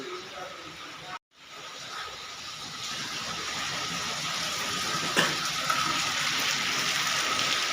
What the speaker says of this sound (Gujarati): વરસાદ તમને બતાવું કેટલો બધો આવે છે